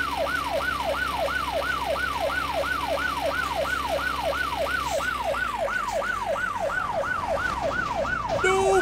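A police car siren in the video game My Summer Car wails in a continuous rapid rising-and-falling cycle, loud and steady over low engine rumble throughout.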